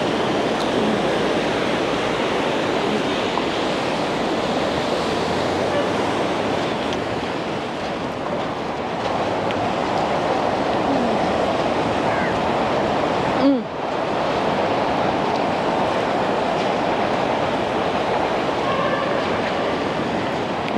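Sea waves on Dehiwala beach make a constant loud roaring wash of surf, steady for the whole span with one brief thump midway, near and dominant, no clear speech.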